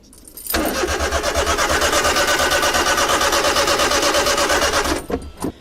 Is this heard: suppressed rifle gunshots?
no